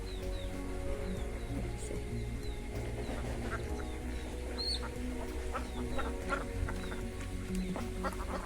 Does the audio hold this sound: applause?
no